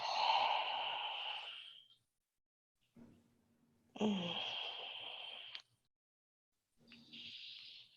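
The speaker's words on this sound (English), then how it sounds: "And breathe." Deep, slow breaths during a relaxing floor stretch with a pillow under the knee: a long airy exhale, a pause, another full breath with a soft sigh, then the start of a third, close and unhurried with no talk.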